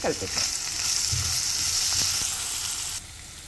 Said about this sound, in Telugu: కలిపిన తర్వాత కొద్దిసేపు దీన్ని వేగనిద్దాం